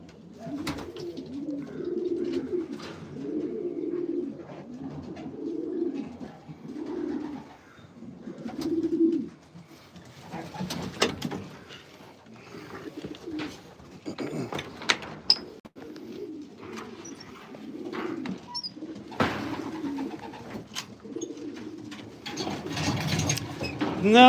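Pigeons coo repeatedly in a loft housing show-type racing homers, the soft rolling calls rising and falling in steady bouts, with occasional wing flaps and shuffling close by.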